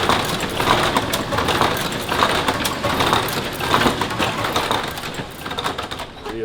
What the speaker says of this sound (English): This is an old hot metal press here.